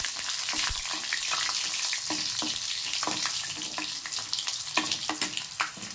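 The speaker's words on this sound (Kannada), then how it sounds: "ನೆಕ್ಸ್ಟ್ ಕರ್ಬೇವಿನ ಸೊಪ್ಪು ಹಾಕ್ತಿದ್ದೀನಿ. ಸ್ವಲ್ಪ ಫ್ರೈ ಆಗಲಿ." Curry leaves frying in hot oil for a sambar, giving a steady close crackling sizzle throughout with a few sharper pops and light stirring scrapes.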